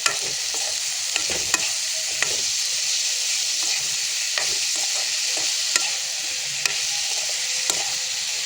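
Chopped banana flower (koldil) with salt and turmeric is stirred in a hot pan for coconut koldil bhaja, a steady close sizzle broken by regular light scrapes and taps of the spoon, with no voices.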